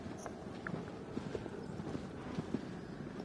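A horse's hooves clip-clopping in the video game Shadow of the Colossus, a steady, moderately faint rhythm of hoofbeats set against continuous outdoor ambience.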